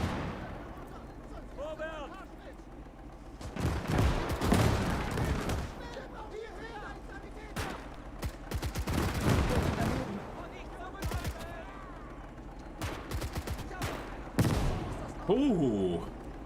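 Gunfire in the World War II game Call to Arms: Gates of Hell, with repeated rifle and machine-gun bursts and booming impacts amid a house-to-house firefight, under excited talk from players.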